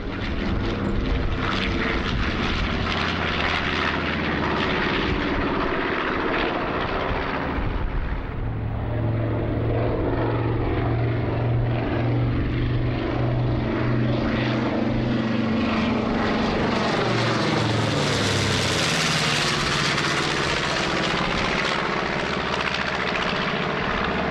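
North American B-25 Mitchell twin-engine propeller bomber flying at an airshow, a loud sustained drone of radial engines that swells and shifts pitch as the aircraft passes, with no talk over it.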